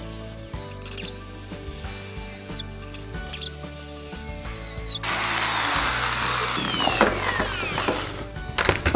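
Power drill boring holes during setup of a Baileigh BR-18M-18 bead roller in a workshop, whining loudly and near as the motor speed rises and falls across several bursts, ending in harsher grinding as the bit bites through.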